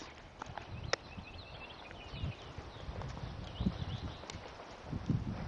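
Horse hooves clip-clop at a steady walk during a riding lesson, a soft even rhythm of footfalls with faint rustling and a few brief high chirps in the background.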